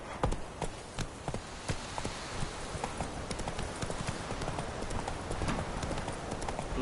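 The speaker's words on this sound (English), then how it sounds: "Come on, Roach." Hooves of the horse clip-clop at a gallop in the video game The Witcher 3, a fast, regular beat that carries on close and clear throughout, with wind and game ambience behind.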